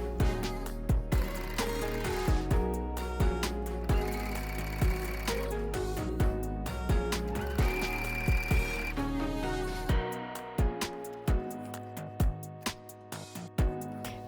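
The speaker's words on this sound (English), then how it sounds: "and then we're sewing once more with a half centimeter seam allowance" Sewing machine stitching a French seam on satin, running in steady mechanical bursts with brief stops and short clicks between runs, close and clear with no talking.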